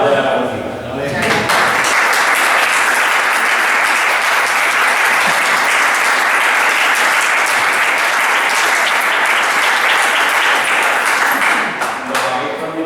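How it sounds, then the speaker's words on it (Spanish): Sustained audience applause fills the space at a music event honoring performers of nineteenth-century academic music in Jerez, a dense steady clapping that swells after a brief pause and holds loud, then tapers off at the end. "yo pido un aplauso para ellos por sus intervenciones más de la música."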